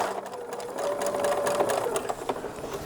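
Sewing machine running steadily at close range, stitching an eighth-inch narrow hem at the very edge of a 1930s–1940s style infant slip, a continuous whirring hum with a faint rattle and no talk.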